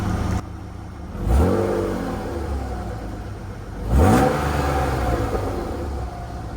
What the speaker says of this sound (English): Now that it's warmed up a little bit, I'm gonna give it some revs, see how it sounds.